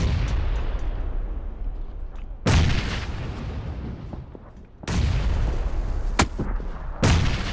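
Frag grenade blasts and gunfire in a competitive online shooter match: several loud, sharp booms, each followed by a decaying rumble, with a quick crack between them, close and heavy with no voices.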